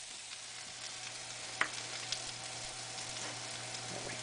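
Squash and zucchini sauteing in a pan over heat high enough to brown them, giving a steady close sizzle and crackle with one sharp tap of a utensil partway through.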